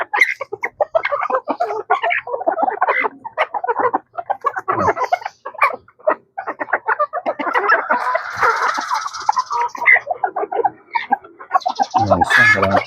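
Chickens cluck repeatedly and busily at close range in a backyard flock, a dense run of short clucks and squawks that rises into a louder burst near the end.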